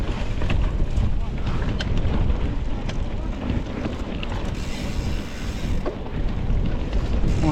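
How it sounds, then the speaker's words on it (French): Heavy wind buffeting the microphone during a mountain bike ride in open country near the Moulin de Vertain on the Paris-Roubaix route, a loud, constant low roar with gusty swells. "Je vois qu'il y a un peu de vent."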